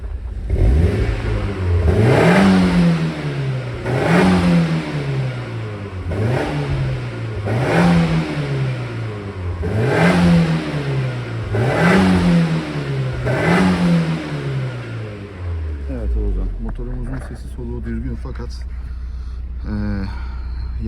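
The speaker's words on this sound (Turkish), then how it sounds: "Egzozun ses tonları güzel. Orijinale yakın, çok yakın." An Opel Tigra engine is revved repeatedly through its exhaust, rising and falling in about seven even swells a couple of seconds apart, then settling to a low idle with clattering. A person talks through it.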